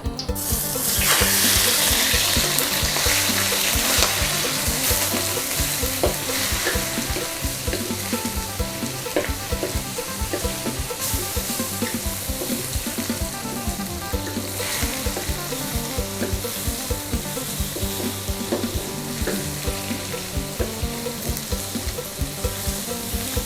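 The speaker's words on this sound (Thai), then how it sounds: "พอน้ำมันร้อนแล้วนะคะ เราก็จะใส่กุ้งสดลงไปนะคะ" Fresh shrimp sizzle and crackle steadily in hot oil for pad thai, a loud continuous fry with occasional stirring scrapes and no voices throughout.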